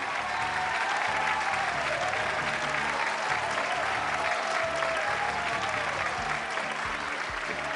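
A live crowd claps loudly and steadily for a band, with a dense wash of applause lasting about eight seconds and scattered shouts and whistles rising through it.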